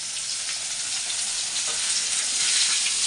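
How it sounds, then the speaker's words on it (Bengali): Fish roe frying in a pan, a loud, dense, close-up hiss of sizzling oil that holds steady and swells slightly, with no talking. "ওই যে মাছের মধ্যে একটু ডিম ছিল ওই ডিম কটা ভাজবো"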